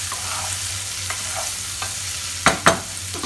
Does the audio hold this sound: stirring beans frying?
yes